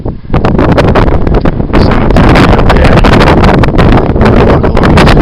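Strong gusts batter the microphone on a mountain ridge near Mount Flume in the Pemigewasset Wilderness, a loud, continuous roar with constant buffeting and crackling and no break for the whole stretch.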